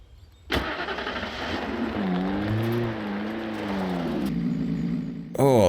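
A car engine starts in the Alan Wake video game with a rough crank, then settles into a steady mid-pitched idle with a slight rise as it revs, continuing close and loud before a sharp change near the end.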